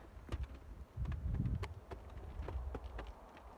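Low buzzing of honeybees left inside a hive box during colony merging drones through, mixed with faint scattered clicks and rustles, close and fairly quiet.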